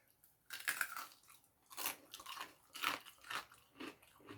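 Crisp bites and chewing on five-spice pork belly crackling (siu yuk), a series of close, sharp crunches spaced irregularly across a few seconds with no talking.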